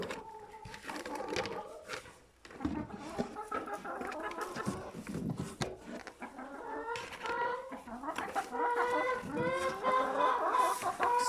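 Hens cluck and murmur in a farm chicken coop during egg collection, a dense chorus of overlapping calls close to the microphone, rising in intensity toward the end.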